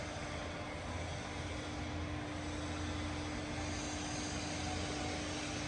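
A Seiki WH-430X1000G lathe runs with its lead screw and longitudinal feed engaged, a steady, even machine drone with a constant low hum and broad whirring noise that holds unchanged throughout.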